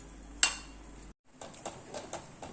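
A cooking pot of potato masala for poori is taken off the stove and set down, making a sharp metallic clank followed by brief silence and then softer clinks and scrapes of cookware, close by.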